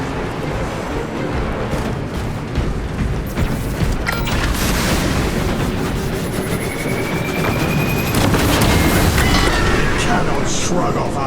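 Heavy cannon fire in the Warhammer 40000: Space Marine 2 video game booms amid dense, loud battle rumble, with sharp blasts and metallic screeches layered over a continuous roar.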